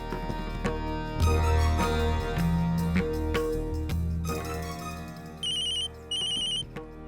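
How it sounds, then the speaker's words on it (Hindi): A telephone ringtone rings out in a Hindi family drama, with repeated electronic tone bursts standing over background music near the end. "माँ घर से फोन है।"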